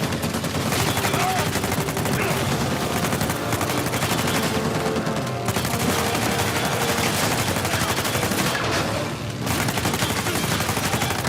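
Nonstop gunfire during a truck chase in the video game Uncharted, dense rapid automatic shots rattling loudly and continuously for over ten seconds with brief shouted voices mixed in.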